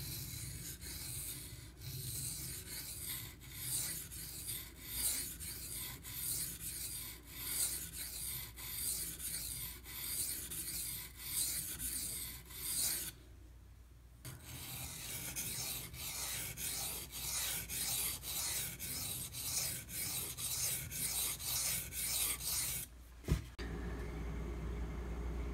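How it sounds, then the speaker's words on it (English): A knife blade is stroked across a 600 grit Pride Abrasives water stone in steady rhythmic scraping passes, close and continuous with one short pause, and no voices. "Next up, we got the 600 grit."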